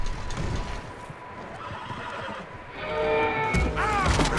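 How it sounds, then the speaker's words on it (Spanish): Horses neigh and whinny in a Red Dead Redemption 2 game scene near a barn, with hoof clip-clop underneath; a clear whinny rises near the end over ambient background. "Tienen caballos de fondo."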